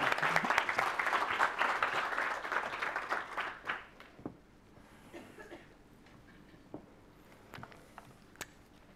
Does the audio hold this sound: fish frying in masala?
no